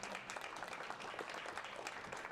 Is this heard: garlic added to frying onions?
no